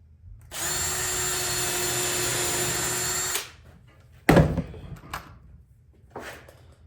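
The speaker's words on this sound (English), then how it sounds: "These Ryobi drills, I'm sorry to say, are junk." A Ryobi cordless drill whirs steadily into wood for about three seconds, close and loud, then stops; a sharp knock and a few lighter clunks follow.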